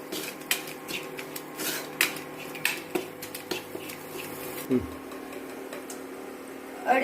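Spices such as chili powder, turmeric and coriander powder being stirred into oil in a pan for a Punjabi dish, with repeated clinks and scrapes of a spoon against metal, close by, while a person talks.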